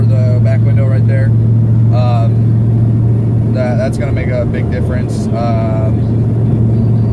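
Ford Mustang with a straight pipe exhaust rumbling at a steady low drone while driving, loud and constant, with someone talking over it inside the car.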